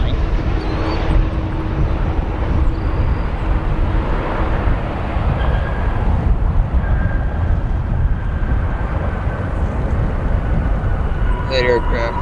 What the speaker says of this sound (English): Our next arrival you'll see go through the camera. United Airlines the 737 MAX 9.